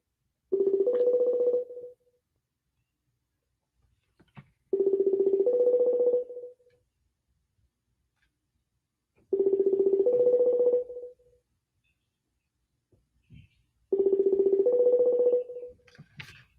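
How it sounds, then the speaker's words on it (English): Outgoing phone call ringing back, four evenly spaced two-tone ring bursts, each about one and a half seconds long with silence between them, clear and alone. "Let me just try calling him real quick."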